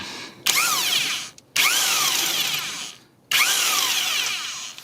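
Power tool driving a 14 mm socket to remove a muffler bolt on a 2007 Mitsubishi Lancer, whirring in three close bursts with a falling pitch as each run slows, the last burst the longest.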